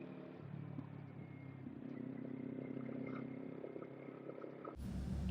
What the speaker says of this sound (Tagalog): Mas nagiginig yung tunog ng motor kaysa sa boses ko.